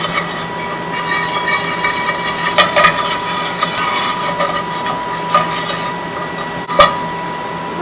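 Flour being stirred in hot oil in a pan to build a browning roux for green chili smothered burritos, a steady close scraping and rasping of utensil against cookware with small clinks, no talk.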